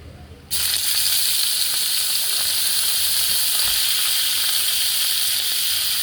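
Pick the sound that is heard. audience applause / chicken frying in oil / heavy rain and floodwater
chicken frying in oil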